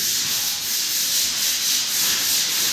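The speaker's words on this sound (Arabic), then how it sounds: "الرجالة شغالة اهي بتصنفر اهيت" Workers sand newly installed wood with a steady, loud, continuous abrasive rubbing that carries on without a break throughout the clip.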